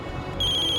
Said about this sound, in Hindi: रघु जी का फोन आ रहा है।